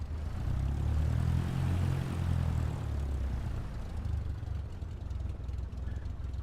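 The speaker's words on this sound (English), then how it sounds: "I'll start taxiing down towards runway" Cessna 172 propeller plane taxiing toward the runway in Missouri, a steady low engine and propeller drone heard from close by, continuous and fairly loud, easing slightly over several seconds.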